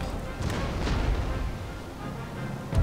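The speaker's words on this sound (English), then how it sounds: "Cannons, these guys are shattered" Deep booming cannon shots in Empire: Total War, several dull thuds spread across a steady rumbling battle din, with a sharper blast at the end.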